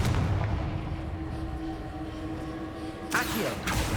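Confringo fire-blast spell cast in the video game Hogwarts Legacy: two sharp explosive bursts near the end, set against steady rumbling game ambience.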